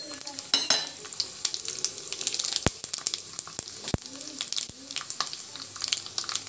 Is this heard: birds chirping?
no